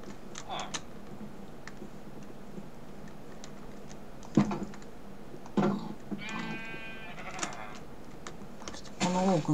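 Sheep bleats in Minecraft, scattered short cries among quiet game ambience with keyboard tapping and a person speaking briefly.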